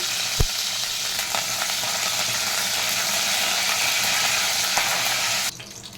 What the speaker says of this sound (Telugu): ఆ తర్వాత కొద్దిగంత కరివేపాకు వేసుకోవాలి. దాన్ని కొంచెం కలుపుకుంటూ